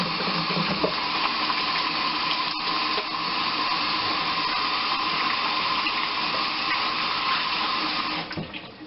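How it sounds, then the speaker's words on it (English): Tap water runs steadily from a kitchen faucet into a sink while butter is washed off hands, a continuous close splashing stream that tapers off near the end. "we're going to wash the butter off of my hands"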